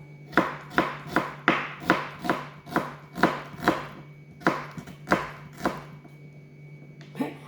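Onions sliced with a knife on a cutting board: about a dozen evenly spaced, crisp chopping strokes close by, a brief pause, then one more cut, with no talking.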